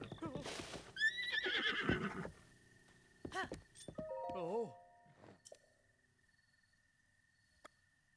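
Horse neighing in the video game The Legend of Zelda: Breath of the Wild, a loud whinny followed by snorts and short nickers, then quieter ambient game sounds with a few soft tones and faint ticks.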